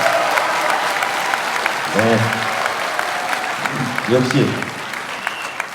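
Audience clapping at a political report meeting after a congratulatory speech, continuous applause with a few brief spoken words cutting in.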